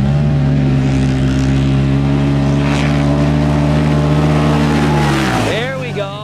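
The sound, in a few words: Polaris RZR Pro R UTV racing down drag strip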